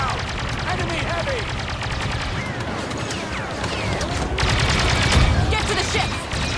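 Blaster gunfire in the video game Star Wars Battlefront II, continuous overlapping shots and zaps in a busy battle mix with rumbling explosions, steady and loud throughout.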